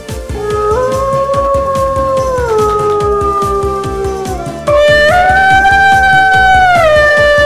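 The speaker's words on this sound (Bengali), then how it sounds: "শিয়ালগুলো চারদিকে ডাকছিল আর শিকার খুঁজতে লাগলো।" Cartoon jackals howl in a loud, continuous chorus of long, gliding wails that overlap and rise in pitch partway through, with no talk.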